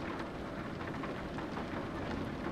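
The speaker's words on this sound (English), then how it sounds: "This is heavy rain." Heavy rain in Euro Truck Simulator 2, a dense, steady hiss of downpour drumming on the truck without a break, loud and close, with no voices.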